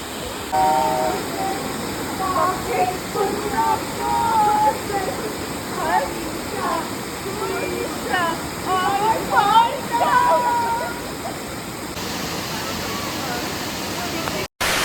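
A waterfall in Meghalaya roars in a dense, continuous rush close by, while people's voices rise and fall over it throughout.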